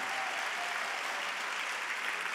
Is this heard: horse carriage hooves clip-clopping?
no